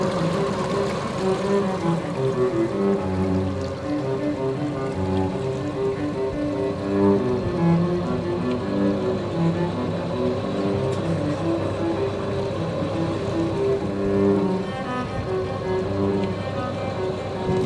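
A sailboat motors under engine power through water scattered with ice, its steady low engine drone running continuously and close with a faint wash of water over it.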